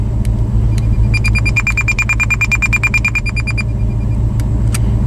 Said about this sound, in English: No more beeping.